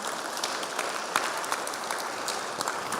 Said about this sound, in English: A round of applause for the St. Clair County Republicans.